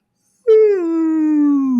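A human voice imitates a rumbling stomach as a whale-like call: a single long, moaning tone that starts abruptly and slowly slides downward in pitch, loud and close, with no other sound.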